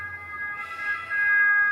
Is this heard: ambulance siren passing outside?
yes